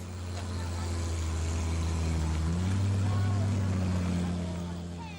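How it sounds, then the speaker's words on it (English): A corn-cob-fueled vehicle's 3-carburetor engine runs steadily, a deep continuous low rumble that swells slightly mid-clip and holds at close range without pause. "fires up the cobs, waits a half an hour for the 3-carburetor engine to warm up, and he's off"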